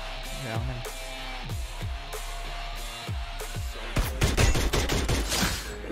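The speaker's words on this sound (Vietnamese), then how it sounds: "Gì bắn nhau quá trời vậy nè." Rapid gunfire bursts in the Free Fire MAX video game, repeated shots with sharp descending echoes over a steady game hum, getting denser and louder toward the end.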